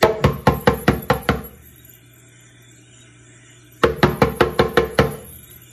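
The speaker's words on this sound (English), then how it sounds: "knock on the door." Two bursts of sharp knocking on a door, about seven quick raps each, loud and close, with a pause of roughly two seconds of quiet between them.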